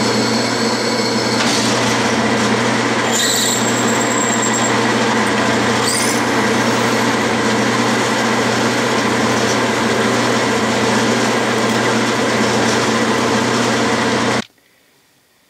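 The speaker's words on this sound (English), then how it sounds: "this is the 1/4 inch bit that I'm going to drill 2 inches in" A drill press drives a 1/4 inch bit two inches into a blind hole in metal, lubricated with plenty of oil. It gives a loud, steady mechanical whir with no talk, running unbroken for about fourteen seconds before cutting off abruptly.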